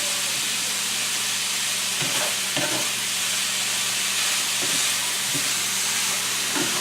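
Bulgur and black beans cook down in a skillet with a steady, close sizzling hiss. A few soft stirring scrapes break through now and then, and no one speaks.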